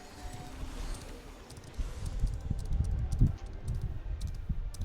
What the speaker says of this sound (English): Ooh, we got a beautiful horse on this character.